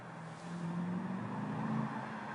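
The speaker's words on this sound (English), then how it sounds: "You can hear the whine, it's awesome." Audi S5 with a custom Milltek exhaust at full throttle, a steady droning engine note with a sustained whine held at a constant loud level throughout.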